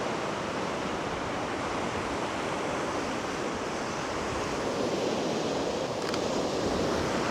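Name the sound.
sea water washing in among beach rocks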